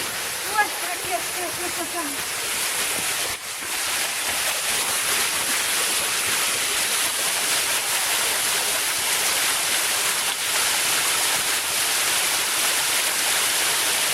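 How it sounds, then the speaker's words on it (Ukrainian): Lykhyi waterfall in the Rakhiv mountains roars as a steady, loud, broadband rush of falling mountain water that stays constant from start to finish, with brief voices near the start. "зараз ми побачимо водоспад з іншого ракурсу."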